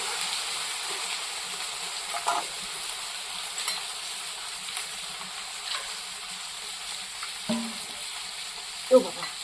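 Fish fries in a pan with ginger, giving a soft, even sizzle of oil under a few scattered spatula scrapes and light clinks, moderately quiet and close, with no clear speech.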